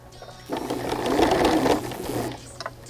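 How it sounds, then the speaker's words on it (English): A home sewing machine runs a basic straight stitch with a heavy-duty needle through several layers of fabric, a steady close mechanical whir that swells and eases over a few seconds with no talking. "then you just bring it up to your machine and you're just using a basic straight stitch"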